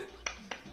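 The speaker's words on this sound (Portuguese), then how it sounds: "Eu agora bato palmas, acho eu." Two quick, quiet hand claps, roughly a quarter second apart, sound against a low, steady room hum.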